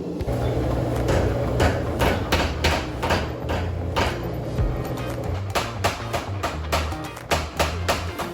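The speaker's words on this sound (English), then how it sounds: "I'm going to pop this in the forge and forge this out to 4 inches long and 2 inches wide" A hammer strikes hot steel being forged out into a knife billet, a quick irregular series of sharp ringing blows close by, some blows doubled, over a low steady forge roar.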